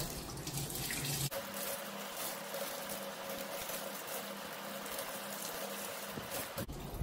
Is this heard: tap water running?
yes